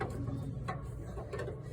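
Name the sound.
tool turning socket head screw to adjust mower deck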